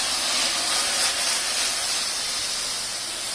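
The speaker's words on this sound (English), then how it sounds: "Take your rice wine vinegar, put that in there" Rice wine vinegar hits a hot Dutch oven while building a braised pork belly sauce, letting out a loud, steady steam hiss that fades slightly toward the end.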